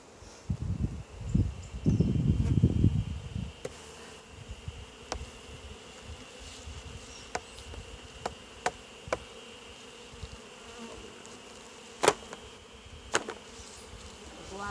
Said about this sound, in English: A lot of bees on the inside of this,